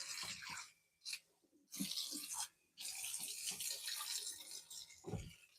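Water running from a tap into a kitchen sink while a garbage disposal is rinsed out, close splashing and gurgling in uneven bursts with brief pauses and a few clunks.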